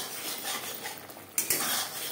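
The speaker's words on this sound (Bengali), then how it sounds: "আলুর সাথে মশলা বেশ ভালো করে কষিয়ে নেব" Potatoes with spices are stir-fried in a pan for egg potato curry, a quiet sizzle under soft scraping, with two sharp clinks of a utensil against the pan near the middle.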